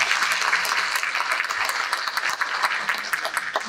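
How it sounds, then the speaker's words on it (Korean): Seated attendees at a hospital pastoral committee symposium applaud to welcome a priest to the podium, with steady, full clapping sustained evenly throughout and no talking. "박수로 고종현 가르로 신부님을 모시겠습니다."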